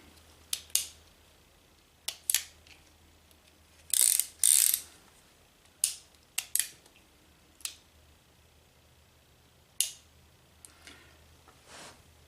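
Metallic clicks of a Pietta 1858 Remington Sheriff's Model .44 caliber revolver as the hammer is cocked and the cylinder locks, a series of sharp close clicks in pairs and singles with quiet between, no voice.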